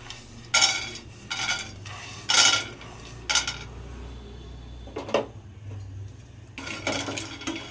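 Nuts frying in a little ghee in a pan, heard as a quiet steady sizzle broken by several sharp metallic clinks and scrapes of a spoon stirring against the pan.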